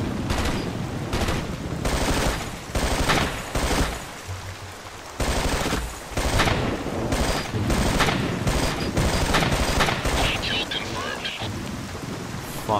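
Sustained suppressive gunfire in the tactical shooter Ghost Recon: dense, rolling bursts of shots that crackle and rumble continuously, with brief pauses between volleys and a faint voice under the din.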